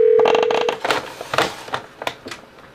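Norstar business phone system tones: a steady tone cuts off after under a second, followed by a series of short, separate dialing beeps, clear and close with no voices.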